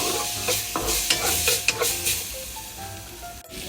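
Onion, tomato and minced pork stir-fried in a pan, with a steady close sizzle under repeated spatula scrapes and clacks against the metal, no voices.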